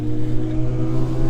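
A Honda race car at Snetterton pulls back out of the pit lane after a tyre pressure check. Its engine gives a steady, loud, droning hum with strong tonal harmonics that holds without a break, and no voices are heard.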